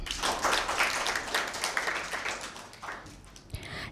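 Audience at a school Bible quiz claps for a team, a steady burst of close, fairly loud applause lasting a few seconds with a final stray clap.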